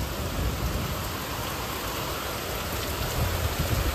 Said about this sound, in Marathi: मंडळी अचानक भयानक पाऊस पडलेला आहे